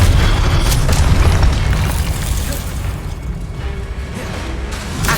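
Booming blasts from Confringo and Incendio spells in Hogwarts Legacy, a heavy explosive rumble that starts loud and slowly fades, with a sharper burst at the end; no talk over it.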